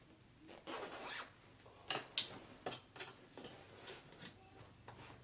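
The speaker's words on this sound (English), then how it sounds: "we can go ahead and close up our zipper" An invisible zipper on sewn pants is pulled closed in several quick, quiet rasping strokes, each a soft brushy zip close to the listener, with brief gaps between pulls.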